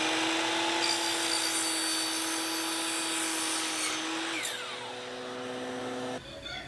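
Wood boards cut to size for a homemade turtle trap give a continuous loud power-saw whine, close and steady throughout, with a brief shift in pitch as the cut ends and no talking.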